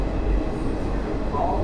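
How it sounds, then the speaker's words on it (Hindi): A local train rumbles past up close at Tilak Bridge, Delhi, with a dense, roaring low clatter, a brief squeal rising near the end. "कोई लोकल ट्रेन इसको ओवर क्रॉस कर रही है"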